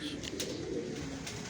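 A large pigeon kept on a rooftop gives soft, low coos that merge into a steady outdoor background, fairly close but not loud.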